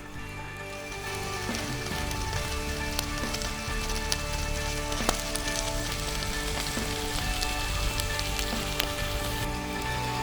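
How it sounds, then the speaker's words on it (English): Food sizzles and crackles steadily inside a foil packet set over a campfire on a winter camping trip, a dense, even frying hiss with scattered pops and ticks lasting throughout, close and with no talking. "And soon we'll hear it sizzling inside."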